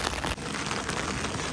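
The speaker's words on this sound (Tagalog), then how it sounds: "Oh, lakas ng ulan." Steady, dense rain pouring down in the UK, a loud continuous hiss filling the whole short stretch with no voices.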